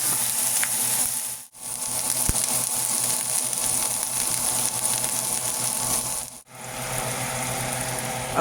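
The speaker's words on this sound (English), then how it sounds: "My onions and my peppers in my butter." Onions and peppers frying in butter give a loud, continuous close sizzle that drops out briefly twice, without talk.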